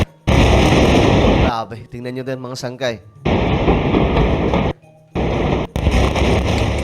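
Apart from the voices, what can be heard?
explosions from Israeli airstrikes in Gaza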